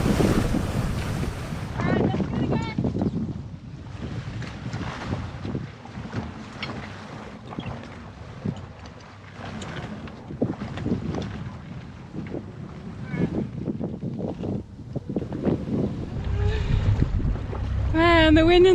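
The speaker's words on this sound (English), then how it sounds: "the wind in this spot is crazy" Strong wind of around 17 knots roars steadily across the microphone at a sailboat anchored in a jungle anchorage, with gusts buffeting throughout the whole stretch and faint water sounds underneath.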